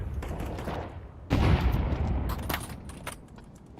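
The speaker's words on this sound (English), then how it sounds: "Throwing a grenade." Grenade explosion and gunfire bursts during a Counter-Strike 2 match, with a loud broadband blast near the middle over continuous fire and game noise.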